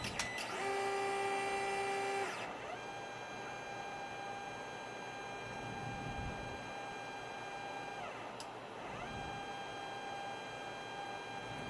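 A 3D printer runs its homing command, with whining stepper motors buzzing at steady pitches and shifting as axes move and stop, a continuous mechanical hum with no talking.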